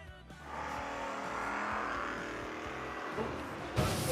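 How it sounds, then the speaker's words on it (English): A Camaro and a 1955 Chevy run a footbrake drag race with a roaring engine that swells and fades at a distance. A sharp burst follows near the end. "Jeff Gatlin, left side. In the Camaro, 779 the dial in. Bobby Seaton, right side. In the 55 Chevy"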